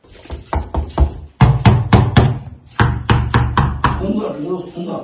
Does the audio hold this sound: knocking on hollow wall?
yes